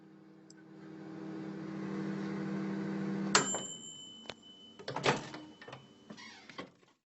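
A microwave oven runs with a steady low hum while heating a vacuum-sealed food tray at full power, then stops with a click and a beep, followed by a door opening and a few clunks of handling.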